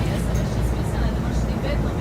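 Inside a Mercedes-Benz Citaro G articulated city bus riding through Ljubljana, a steady loud cabin rumble of engine and road noise drones continuously beneath someone talking.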